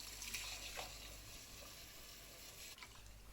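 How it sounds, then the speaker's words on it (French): Rinse water from washed rice pours off into a sink, a faint steady trickle and splash with a couple of brief louder splashes, no voices. "Puis je retire l'eau."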